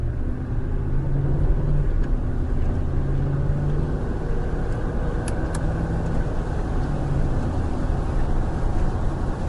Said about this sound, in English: And we'll go down the bumpy road here.